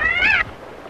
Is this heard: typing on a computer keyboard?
no